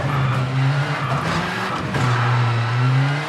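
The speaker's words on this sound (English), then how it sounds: "Now in the straight line, you can accelerate a bit." Rally car in the racing game V-Rally 4 accelerating on a straight, a steady loud engine drone with rising and shifting pitch and faint tire noise, heard alone.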